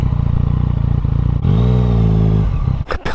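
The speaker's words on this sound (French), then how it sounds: "Ça pétarade sa mère!" A Yamaha MT-09 motorcycle engine drones steadily, swells into a held rev, then lets out a couple of sharp exhaust pops and crackles as it closes off.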